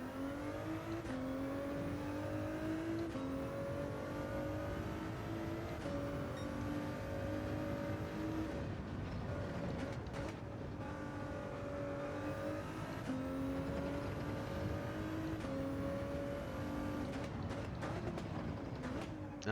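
Ford GT race car screaming around the Sardegna road circuit in Gran Turismo 7, its engine revving up and down through gear shifts over a steady, continuous roar.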